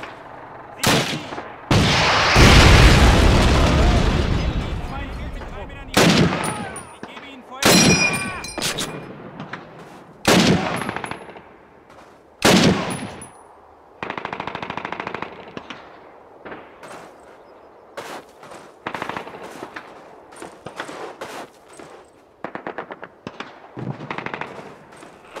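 Call of Duty (2003) battle on the PC around Festung Recogne: loud bursts of machine-gun fire and booming explosions, with several long rattling volleys and scattered single shots separated by short quieter gaps.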